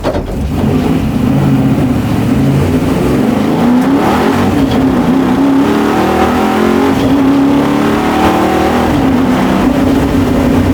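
A 1964 Ford Galaxie with a 700-horsepower big-block engine accelerates hard, its loud, steady engine roar continuous throughout with wind rushing past.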